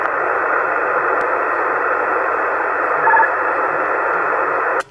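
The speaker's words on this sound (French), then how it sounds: "j'ai eu que le Roger Beep qui est passé là, c'est tout" A CB radio hisses with steady loud static on the 27 MHz band, with a brief short roger beep tone near the end before the carrier cuts off.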